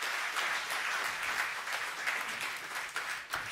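Sustained clapping from a crowd, steady and fairly loud, continuing throughout without a break.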